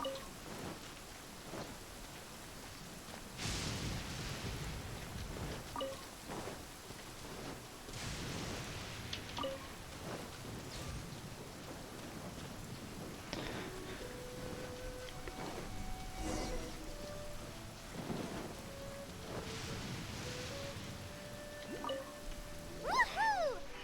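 Soft steady rain in a video game hisses faintly throughout, with scattered louder splashes and bursts of game effects and tonal chimes over it, all at low level.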